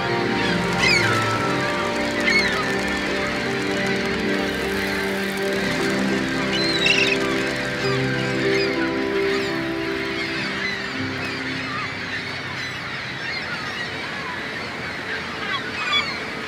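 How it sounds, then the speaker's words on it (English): Many seabirds call at once in a loud, raucous chorus of honking and squawking cries, overlapping continuously like a crowded coastal colony. "Seabirds are the noisiest neighbors."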